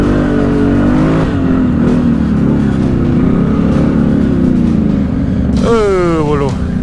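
Loud, close engine of an off-road vehicle climbing rough terrain, droning steadily under excited talk, then a rising, swooping rev near the end as the engine is pushed harder.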